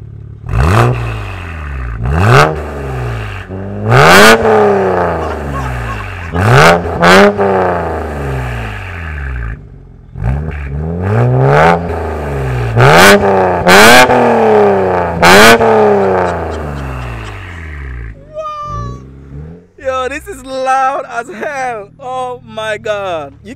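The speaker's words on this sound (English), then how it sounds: "I almost forgot to do a clip of the exhaust." BMW exhaust blipped repeatedly close by, a series of sharp loud revs that each climb and fall back, followed by people talking and cheering over the idle.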